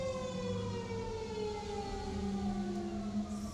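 Distant emergency vehicle sirens go by an apartment, a long steady wail slowly falling in pitch above a low continuous traffic hum, fairly quiet and uninterrupted.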